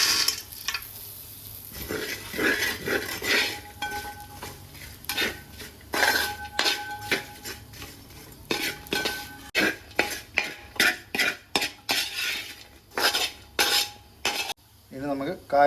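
Fish pieces going into a pan for Kerala fish pickle, with repeated close clinks and scrapes of a utensil against the pan and a faint sizzle underneath, in irregular bursts that grow sharper and more frequent toward the end.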